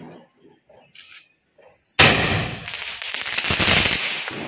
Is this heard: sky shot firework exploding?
yes